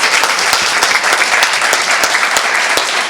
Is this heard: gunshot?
no